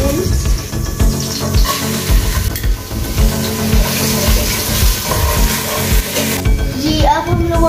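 Onion is tipped into melted butter in a frying pan, giving a steady loud sizzle with scraping and stirring clatter throughout, ending in a brief sharper utensil knock.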